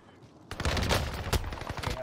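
Gunfire in Call of Duty Warzone on Rebirth Island, a burst of rapid automatic shots erupting after a quiet moment and continuing in sharp, loud cracks.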